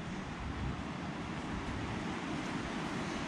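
Strong outdoor wind while running beagles after rabbits comes through as a constant, loud roar and rumble buffeting the microphone, broadband and unbroken, with no speech.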